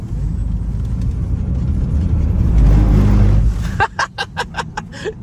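A BMW 320d on new tyres accelerates hard, its diesel engine rising to a loud close roar, then cutting off abruptly before a run of quick rhythmic bursts.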